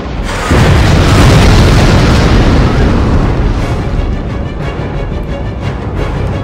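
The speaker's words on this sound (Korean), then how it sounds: "폭발 소리가 좀 크네" A loud, sustained explosion from the video game Dead Space 3: a deep, roaring boom that swells within the first second and rumbles on heavily, slowly settling but staying dense to the end.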